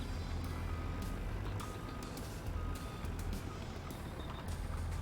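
A Warrior truck in a video game reverses, its backup alarm beeping in a regular repeating rhythm over a loud, constant engine and ambient rumble, with no talk.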